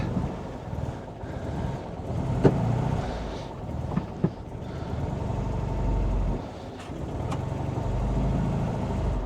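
An old Fiat 500 idling unevenly in a garage, a steady low engine rumble with small fluctuations and a few sharp clicks, heard alone and close.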